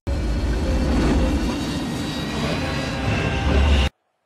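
An airliner's engines roar loudly and continuously inside a horror movie during cabin pressure trouble, a dense steady rumble that ends abruptly after about four seconds.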